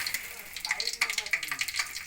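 Whole spices and a bay leaf crackle and sizzle in hot oil, a steady close frying hiss dotted with sharp little pops.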